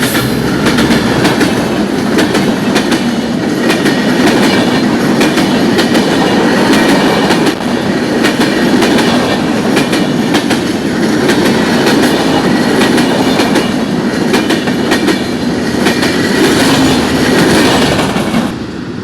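The Sagardari Express thunders past at a rail crossing, loud and close, with a continuous heavy roar and rapid clickety-clack of wheels over the joints that holds steady throughout.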